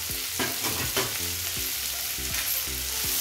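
Onion, garlic and masala with turmeric sizzle and fry in a pan while being stirred, giving a steady close crackle with repeated scraping strokes of a spoon, and no voices.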